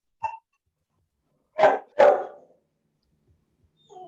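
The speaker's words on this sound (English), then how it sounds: "Somebody's dog is barking in the background." A dog barks in the background during an online meeting: a short yip, then two louder barks close together, with a faint further bark at the end, all fairly quiet and with no talk over them.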